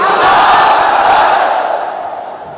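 A large crowd at an Islamic religious gathering in Malaysia calls out the takbir together in unison, a loud, dense roar of many voices that swells at once and slowly fades over a couple of seconds.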